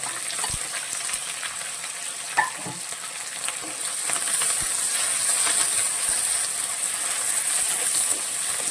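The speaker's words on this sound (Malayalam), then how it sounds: "നമ്മൾ ഒത്തിരി വഴുത്തണ്ട ജസ്റ്റ് ഒന്ന് വഴറ്റിയാൽ മതി" Cubed onion and capsicum sauté in a hot pan for gobi manchurian, a steady loud sizzle with occasional stirring scrapes and clicks throughout.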